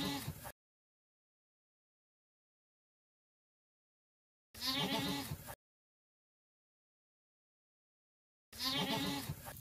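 Goats dressed in pajamas bleat in three separate bursts, each about a second long, with silent gaps between them; close and clear, no talking.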